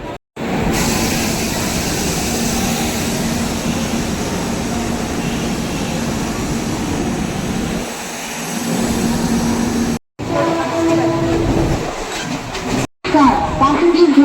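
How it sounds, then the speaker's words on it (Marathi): A Mumbai suburban train rumbles steadily along between Borivali and Kandivali with loud, continuous roar and rattling, a couple of brief dropouts, and some voices mixed faintly underneath. "आता निघतोय या ट्रेनने"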